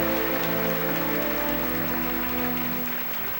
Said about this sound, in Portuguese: Uma linda salva de palmas a Jesus,